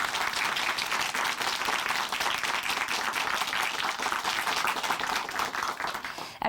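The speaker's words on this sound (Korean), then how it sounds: "다시 한번 박수 보내드릴게요." Studio audience applause at a Korean Christian television program, steady close clapping from many hands that runs unbroken for about six seconds, alone without talk, before easing off at the end.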